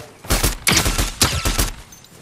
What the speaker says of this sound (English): I'm getting shot at from the back.